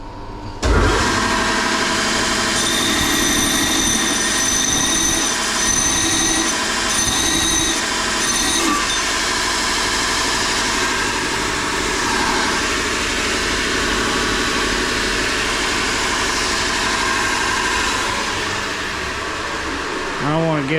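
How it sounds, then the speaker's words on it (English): An alternator part being ground, a loud continuous grinding whine that holds steady for about twenty seconds. "we're gonna have to grind it"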